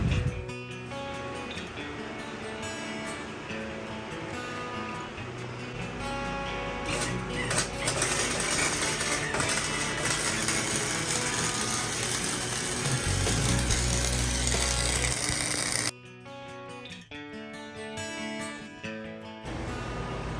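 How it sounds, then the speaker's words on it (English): A welder runs a bead along the inside of a raised school bus roof, a continuous crackling buzz that holds steady for most of the run and cuts off briefly near the end before resuming. "Just running a bead down the inside here."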